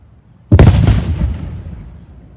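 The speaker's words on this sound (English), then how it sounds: "And it seems that the French have some artillery as they are encroaching on the fort." A single deep, booming cannon shot from a French colonial artillery reenactment at Fort Ligonier, loud and close, with a long rumbling decay and no talk.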